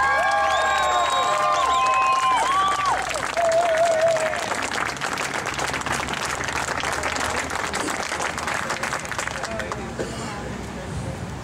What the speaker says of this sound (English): I want everybody here to give a major round of applause for Ernest Hancock.